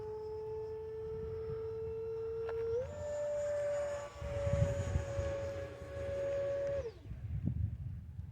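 An E-flite Viper 70mm electric ducted-fan RC jet flies at an airfield in cold rain, a steady whining tone that steps up in pitch, holds, then drops away, over low rumbling wind noise.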